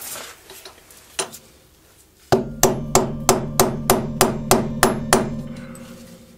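Metal hammer strikes a pin punch to deform an old worn ball bearing during a rear wheel bearing replacement: two isolated knocks, then a steady run of about ten sharp, loud, evenly spaced blows that ring briefly.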